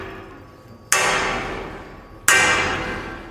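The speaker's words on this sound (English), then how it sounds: "I'd like to hit that with a hammer" A big hammer strikes a custom fiberglass car fender twice, each a loud, sharp, close impact spaced a little over a second apart, ringing out and fading between the hits.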